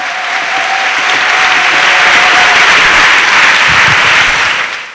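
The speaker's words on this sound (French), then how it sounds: "The clap offering to Jesus Christ." Church congregation clapping as an offering to Jesus Christ, a loud, sustained roar of applause from a large crowd filling the room, holding steady for several seconds before easing off.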